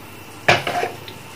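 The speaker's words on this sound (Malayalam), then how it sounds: "നമുക്ക് ഈ ചട്ടി ഒന്ന് ചുറ്റിക്കാം." A clay pot holding hot ghee is swirled and knocks once sharply against a surface, followed by a brief scraping rattle and a faint tap, close and alone.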